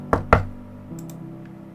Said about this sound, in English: 2 more loud knocks.